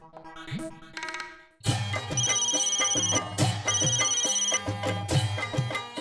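A phone ringtone plays a bright, repeating electronic melody, loud and continuous after a short musical lead-in.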